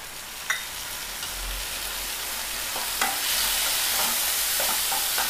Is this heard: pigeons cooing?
no